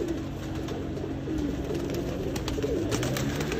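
Teddy pigeons coo softly and repeatedly, low rolling calls overlapping against a constant background hum.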